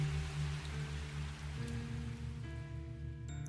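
Heavy rain pours steadily in a broad, even hiss at a moderate level, with a low droning hum running underneath.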